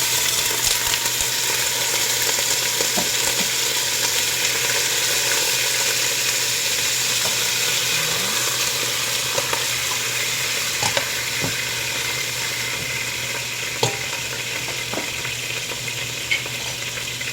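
Beef sizzling in hot oil in a pan while cooking egusi, a loud continuous frying hiss with occasional small pops and utensil clicks, steady throughout with no speech.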